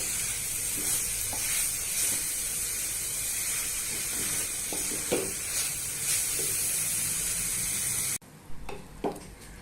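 A sweet mixture with jaggery is stirred in a pan over low gas, a soft steady sizzle and hiss with scattered scrapes of the spoon, faint and close, ending in a brief quieter stretch.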